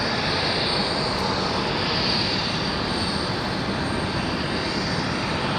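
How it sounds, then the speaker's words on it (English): Delta Airbus A320 or A321 jet airliner departing runway 23 at Raleigh-Durham International Airport, a steady loud engine roar lasting throughout, broad and constant without pauses. "It's like an A320 for Delta, possibly an A321."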